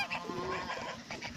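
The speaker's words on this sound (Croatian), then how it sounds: "Poludjele patke krenule su u boj!" Ducks on a village farm give a few close, nasal, honking quacks in quick overlapping bursts, with no talking.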